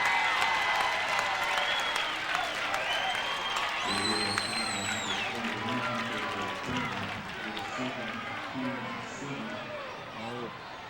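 A high school basketball crowd in a gym applauds players as they leave the floor, clapping and cheering at a moderate distance with a commentator talking over it, the noise easing off toward the end.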